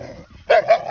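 A dog barks loudly and close by in three sharp bursts near a stray mother dog with a newly born litter of small puppies, after a quieter stretch of low background noise.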